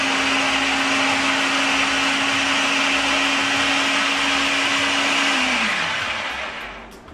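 A blender grinds dried chile de arbol and garlic for salsa with a loud, steady motor whir and gritty churning, then the motor winds down and fades at the end.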